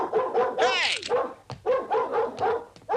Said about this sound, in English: Will someone shut that dog up?